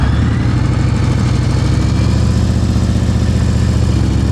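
A motorcycle engine during slow-speed riding practice in Florida, chugging steadily at low revs with a throbbing, even pulse, loud and close throughout.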